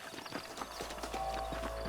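Horses clip-clopping in the Red Dead Redemption video game, a quick irregular patter of hoofbeats at moderate distance over a low steady background rumble, with a faint snort or whinny and no speech.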